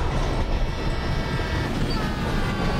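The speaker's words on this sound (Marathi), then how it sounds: "यहाँ पे हमें फ्रेट ट्रेन ने क्रॉस किया हुआ है" Freight train rolling past in MSTS Indian Train Simulator, a steady dense rumble of wheels and cars held at an even level throughout, close and continuous with faint clicking over the rail noise.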